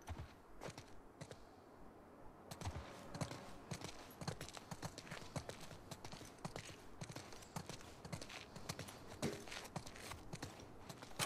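Horses walk at a steady pace in The Last of Us Part II, their hooves clip-clopping in a continuous uneven rhythm throughout, close and moderately loud over faint outdoor ambience.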